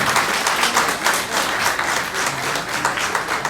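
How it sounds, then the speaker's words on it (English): Applause for event volunteers on stage at a freshers' induction programme, steady full clapping from a sizeable audience sustained throughout. "A huge round of applause"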